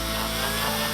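A power drill turning an Archimedes screw to lift water up a pipe, a steady whirring motor hum held close and even for a brief second, with no voices.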